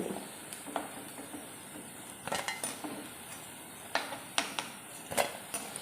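Kerala-style fried beef is moved from the pan into a dish. A metal spoon clinks and scrapes against the cookware in scattered, sharp taps over a soft, steady background hiss.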